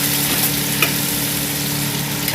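Green chili paste sizzles and is stirred in a hot pan while making a Bengali malai pyaz sabji, a continuous loud close frying hiss without talk.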